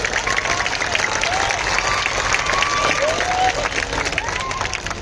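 A music class audience of students claps loudly, a dense, sustained wash of applause with crowd murmur underneath, filling the whole stretch without pause.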